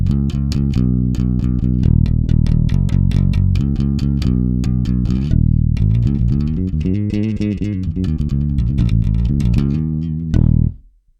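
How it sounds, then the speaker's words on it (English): Ibanez six-string bass played direct through a Zoom MS-60B pedal in bypass, clean and undistorted: a steady run of plucked notes and chords, loud and close, for about ten seconds before ringing off, with no talking. "Here's the sound of the bass, completely bypassed with no effects or anything, just the bass direct."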